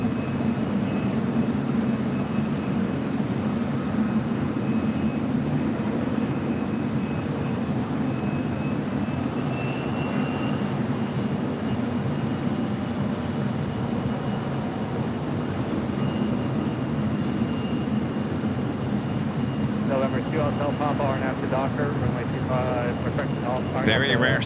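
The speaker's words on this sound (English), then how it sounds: "Very rare Southside departure for Air France, heading back to Paris." An Air France jet departs LAX, a sustained, distant broadband engine roar that holds evenly throughout, with faint voices mixed in.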